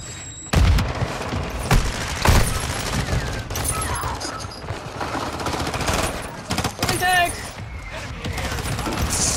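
Rapid bursts of video game gunfire, attributed to a Glock pistol, crack out in loud, closely spaced volleys with heavy impacts, while players talk over the shooting.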